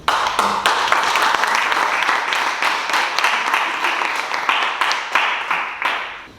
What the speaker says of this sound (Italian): Intanto facciamo un applauso